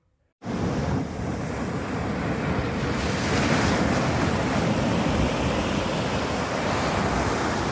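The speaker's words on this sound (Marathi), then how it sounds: "मस्त लाटा येत होत्या" Ocean waves break on Nivati beach, a black-sand shore on the Konkan coast at sunset, making a steady, loud roar of surf with wind noise that starts abruptly and continues without pause.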